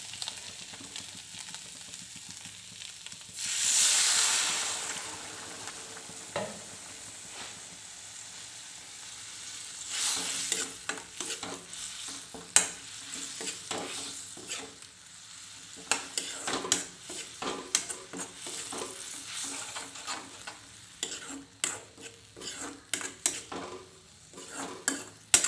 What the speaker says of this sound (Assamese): এতিয়া ইয়াত পানী অলপ দিওঁ।